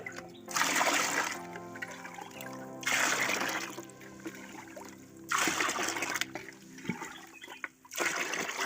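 Liquid fertilizer poured into a cup in three or four separate bursts of splashing, gurgling flow, each lasting one to two seconds with short pauses between, fairly loud and close with no talking.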